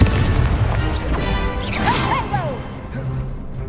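Confringo blasting spell cast in the Hogwarts Legacy video game: a loud booming impact, followed by crashing, whooshing magical effects and chirping tones that fade, with no voices.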